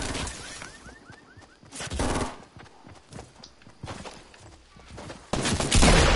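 Gunfire in the Fortnite video game, with scattered shots and rapid bursts at varying distances over footsteps, growing loud near the end.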